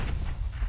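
A flashbang grenade detonating in Counter-Strike: Global Offensive, heard as a single dull, low booming burst lasting under a second with no voices over it.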